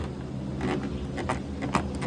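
The fairings of a Motorstar Legend 125FI motorcycle rub against each other and creak, producing several short, scattered creaks and ticks over a low steady background rumble.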